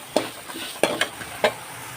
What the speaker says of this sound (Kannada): ಈಗ ಮಸಾಲ ಹುರಿದಾಯಿತು